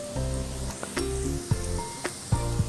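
Onions sautéing with ginger garlic paste in a pan for a potato and green pea curry, with a steady sizzle and a few clinks and scrapes from stirring, close and moderately loud, with no talk.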